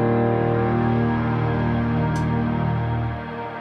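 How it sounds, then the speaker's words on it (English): A sustained keyboard piano patch in MainStage with shimmer reverb, dense layered tones ringing steadily, then a soft wash of reverb tail as the level drops near the end. "So the more reverb you have, the more shimmer you have."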